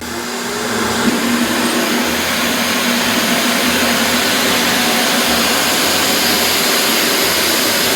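A robot vacuum cleaner runs with a loud, steady whirring hum of motor and suction, constant and unbroken throughout with no speech.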